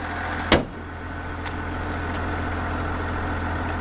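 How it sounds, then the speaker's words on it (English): A 2021 GMC Yukon Denali's diesel engine idles quietly, humming low and even throughout, preceded by a single sharp knock near the start. "It's a diesel engine."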